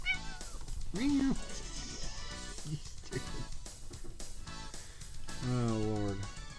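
A cat meows up close a couple of times, loud and drawn out, between bits of a person talking.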